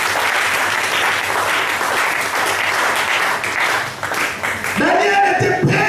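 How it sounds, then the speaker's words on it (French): A church congregation applauds and cheers for the Lord, sustained dense clapping and crowd noise for several seconds before a voice breaks in at the end. "Est-ce qu'on peut acclamer le Seigneur pour ça?"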